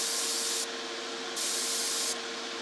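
A spray gun hisses in two short bursts at 25 psi, a steady close airy spray of water-based acrylic polyurethane primer with a quieter gap between them.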